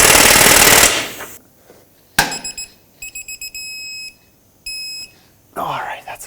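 A torque wrench tightens the rear front control arm bolt on a 2009-2015 Toyota Prius to 158 ft-lb. A loud burst of ratcheting noise is followed by a sharp clack and several rapid electronic beep sequences, with talk nearby.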